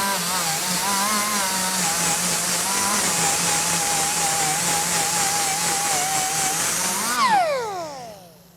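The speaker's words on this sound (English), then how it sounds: "Worth Flexi Disc actually goes into that contour without cutting it" An angle grinder fitted with a Würth flexi disc whines steadily against a car body's contoured panel, holding a sustained high drone before spinning down at the end.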